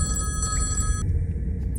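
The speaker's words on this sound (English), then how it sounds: "Why have you got a phone up your ass and why is it ringing?" A telephone rings in a comedy scene, a steady electronic bell tone sounding continuously and fairly loudly for under two seconds, alone without any talk.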